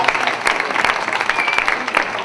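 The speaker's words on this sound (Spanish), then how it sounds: "Un aplaudiment." An audience at an end-of-season football club party applauds, a dense burst of clapping from many hands filling the room for a couple of seconds.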